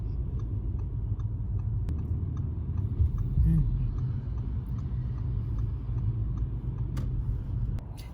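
A 2019 Audi RS3 sedan with a 400 hp five-cylinder petrol engine and quattro all-wheel drive rumbles steadily from inside the cabin while driving, with faint ticking on top.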